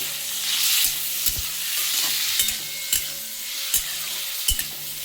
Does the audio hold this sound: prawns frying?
yes